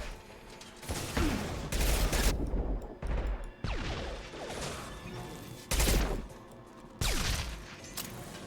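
Heavy gunfire fills a Mass Effect 2 battle, several loud sustained bursts of automatic weapon fire separated by short gaps with mechanical clanks, close and dense, with no talking.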